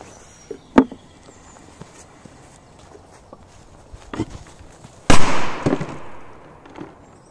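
Korsar 4 firecrackers go off outdoors: a sharp crack near the start, a softer pop later, then one loud close blast that rolls away into a fading echo. No one speaks.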